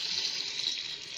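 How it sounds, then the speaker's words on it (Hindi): About a litre of water pouring steadily into a cooking pot of fried potatoes for an aloo mutton curry, a continuous hissing splash at moderate level with no talking. "अब इसके हम अंदर पानी ऐड करते हैं। ये तकरीबन 1 लीटर पानी है जिसके अंदर हम ऐड करेंगे।"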